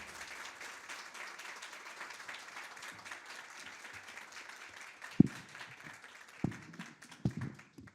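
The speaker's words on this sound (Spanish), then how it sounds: "Reiterado el aplauso" Soft, distant applause from a conference audience follows a presentation on front-of-package food labeling at an industry meeting, a steady low patter with a few sharper knocks near the end.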